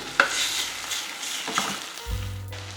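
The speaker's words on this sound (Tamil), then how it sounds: "அப்படியே மெதுவாக பரட்டி விட்டிங்கன்னா கொஞ்சம் அந்த மசாலாலாம் நல்ல ப்ரௌனிஷாக வந்ததுன்னா அதுக்கப்புறம் நம்ம நிறுத்திடலாம்." Goat brain masala frying in a pan, a soft continuous sizzle broken by a few sharp scraping stirs of the spoon, close and alone without talk.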